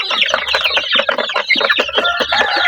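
Forty-day-old chicks cluck and chirp in a dense, continuous chorus close by, with overlapping short calls and no talking.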